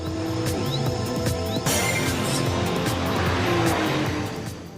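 Porsche 911 Carrera GTS driving hard on a race circuit, its engine note steady and loud inside the car, with a brief rise and shift in tone partway through and no talk.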